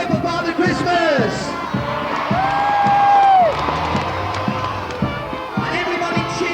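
A crowd at a Christmas grotto event cheers for Father Christmas, voices swelling and whooping in a loud, sustained burst with a long held bellow rising above the mix and scattered shouts trailing off.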